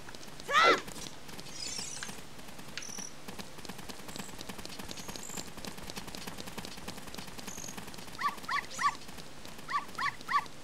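Dog barking in The Legend of Zelda: Ocarina of Time, with a few short game-style yips near the start and then a quick series of light barks toward the end over a steady ambient hum.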